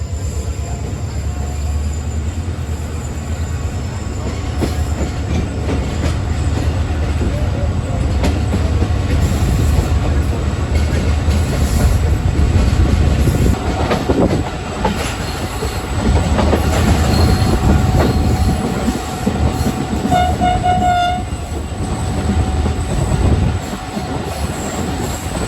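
The 151UP Shah Latif passenger train pulls out of Jungshahi railway station, a loud, sustained roar of rolling wagons with squealing wheels and rhythmic clatter, close and unbroken.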